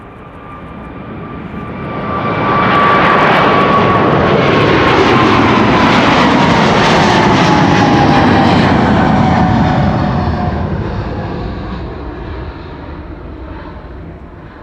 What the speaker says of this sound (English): This is China Southern Cargo to Shanghai in China, flight